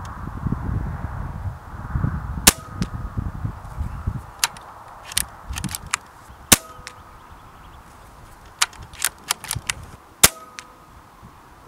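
A string of sharp, snappy Hatsan Flash air rifle shots, firing H&N Sport Silver Point pellets at 50 metres at irregular intervals, about a dozen cracks over a low rumble of wind.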